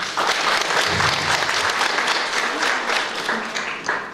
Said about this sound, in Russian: Давайте Ивану похлопаем.